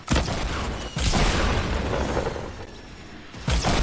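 Rocket launcher blasts in Fortnite: heavy booming explosions burst out at the start and around one second, followed by a rumbling decay and another hit near the end, loud and close.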